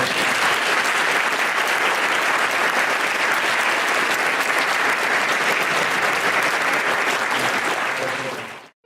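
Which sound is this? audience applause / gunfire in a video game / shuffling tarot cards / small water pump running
audience applause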